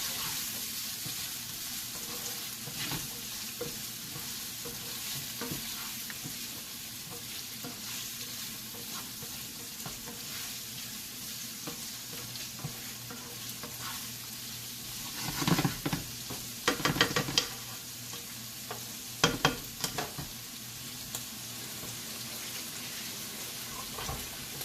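Onions frying in a pan on the stove, a steady close sizzle with scraping stir strokes that grow louder and clatter in bursts near the end.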